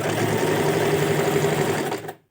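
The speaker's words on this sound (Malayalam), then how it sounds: "എന്നിട്ടൊന്ന് സ്റ്റിച്ച് ചെയ്തെടുക്കുക" Sewing machine stitching through elastic held stretched under the pressure foot, a steady close whirring run of rapid stitches that stops abruptly at the end.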